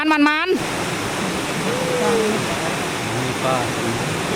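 Flowing water in a village of the Ta Oi people in southern Laos makes a steady, loud, close rushing noise like a waterfall or stream, with a brief voice at the start and faint voices or birds over the flow.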